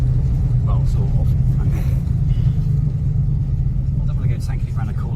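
A 1950s-era Austin A125 Sheerline saloon engine drones low and steady in third gear from inside the car, a constant rumble that runs throughout.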